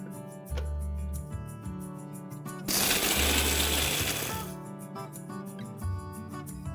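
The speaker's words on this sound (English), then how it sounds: "I'm going to quickly grind this makhanas as well. So just pulse it." A mixer grinder pulses makhana (fox nuts) into coarse powder, with a loud whirring burst of about two seconds set between quieter motor hum and rattling stops and starts, heard up close.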